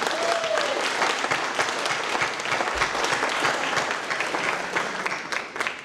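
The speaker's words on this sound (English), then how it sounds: "Let's give Tony a round of applause." A room full of people at a 2018 annual meeting applauds a scholarship recipient, sustained even clapping throughout, loud and close, gradually easing toward the end.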